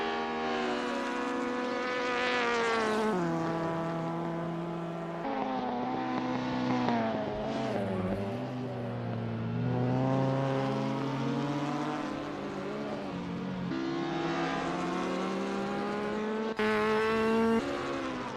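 Alfa Romeo GTAM race cars in the Assetto Corsa racing game, engines whining and revving loudly through repeated gear shifts, pitch rising and dropping with each change, with no talk.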